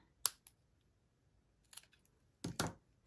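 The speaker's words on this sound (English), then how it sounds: "Snip it at the cinched point." Scissors snip through ribbon at its cinched point, giving a few sharp, close clicks separated by quiet pauses, with a louder double snip near the end and no talk.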